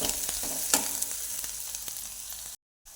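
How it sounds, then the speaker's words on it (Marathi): Onion sautés in a pan for matki bhaji, a steady close sizzle with light stirring taps before a sudden brief cut to silence. "कांदा परतत आलेला आहे अजून एक मिनटासाठी परतत राहायचा"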